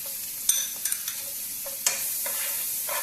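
Chopped onions fry in butter in a pan, giving a steady, fairly quiet sizzle with a few sharp clinks and scrapes of stirring scattered through it, and no voices.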